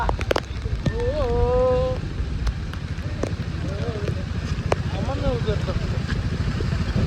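Steady heavy monsoon rain hisses throughout amid flooding, with voices talking and calling out over it and a brief whistle-like tone near the start.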